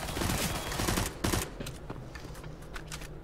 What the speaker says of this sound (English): Look at them firing all those bullets and not dying, man